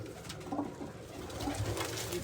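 Pigeons cooing close by in a rooftop loft, low soft repeated coos over a faint outdoor background, with no talking.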